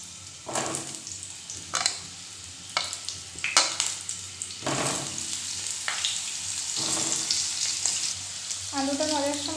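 Potatoes fry in hot oil in a pan with a steady close sizzle, while a spatula stirs and scrapes against the pan in intermittent clattering strokes.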